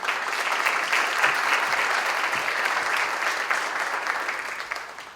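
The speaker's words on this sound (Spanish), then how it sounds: "a quien le pido un caluroso aplauso para recibirlo" Warm audience applause welcoming a speaker at a university candidates' debate in Lima, dense sustained clapping from a large crowd, loud and continuous, tapering slightly at the end with no talk.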